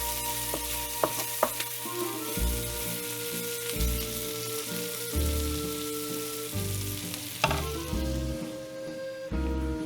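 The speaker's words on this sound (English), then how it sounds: "Let's stir this, because this is my tea." Food for a home-cooked winter dinner is stirred in a hot frying pan, with a steady close sizzle under repeated scraping and clattering strokes of the utensil against the pan.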